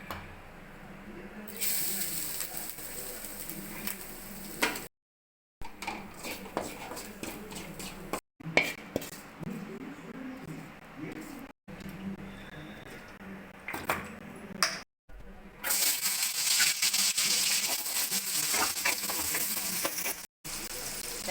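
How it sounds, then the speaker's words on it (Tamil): Coconut roasting in a little oil for Chettinad mushroom masala, a soft intermittent sizzle and spatter broken by brief silences, with louder hissing bursts toward the end and occasional clinks. "லைட்டாக எண்ணெய் ஊற்றி தேங்காய் வறுத்து எடுத்துக்கலாம்"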